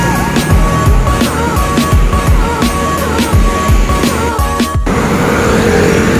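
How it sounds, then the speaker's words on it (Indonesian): A Haryanto Jaya double-decker bus departs for Blitar, its low engine rumble rising over a busy terminal with steady clatter and repeated knocking. The sound is continuous and fairly loud, then thins slightly near the end. "sini ada Harawan Jaya Double Decker nih. Sekarang ya K410. Harawan Jayanya diberangkatkan menuju Blitar."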